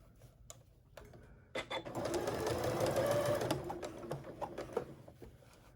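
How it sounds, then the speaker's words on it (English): A sewing machine runs a steady stitching burst for a few seconds along the top edge of a homemade trick-or-treat bag. The motor hum is close and fairly quiet, with brief handling sounds before and after. "stitch this right along the top."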